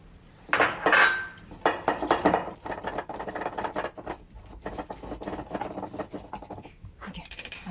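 Dry green chili being mashed in a bowl, a run of scraping, clattering knocks and gritty crunches that come close and fairly loud, in irregular bursts for several seconds with no talking.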